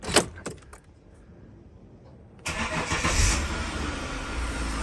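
A Holden VT 3.8 V6 with a freshly fitted starter motor: a few sharp clicks and a short clatter, a quiet pause, then the engine catches and settles into a loud, steady idle close by.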